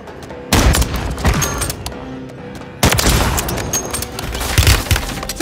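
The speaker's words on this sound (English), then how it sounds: "Taking effective fire!" Gunfire in the shooter game Warzone: two loud bursts of rapid automatic shots with sharp cracks and rumbling echo, separated by a brief quieter gap, close and dominant.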